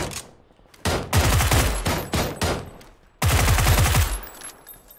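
Loud, close automatic gunfire from the video game PUBG comes in several sustained bursts of rapid shots, with short gaps between them and no talking.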